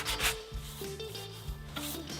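Dual-action sander running 80 grit across a car body panel during bodywork, giving a steady near rubbing rasp that swells in repeated strokes, with no voices.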